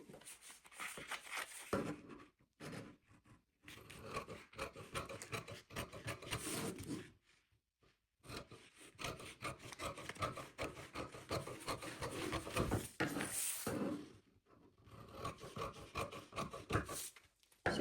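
Scissors cut through paper pattern pieces for a crossover hijab, a steady rasping, rubbing snip repeated in long bursts with brief pauses between, close and fairly quiet, no talking.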